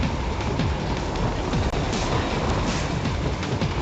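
Train running in the video game Metal Gear Rising: Revengeance, a loud, dense, continuous rumble and clatter of rail cars that stays steady throughout with no voices.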